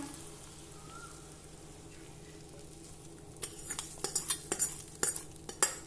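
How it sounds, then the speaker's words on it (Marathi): Spoon stirring and mixing hot tempering into cooked rice for raw mango rice, with scraping and clinking strokes that start partway through and grow louder, close and without talk. "सर्व साहित्य एक वेळा नीट मिक्स करून घेऊ"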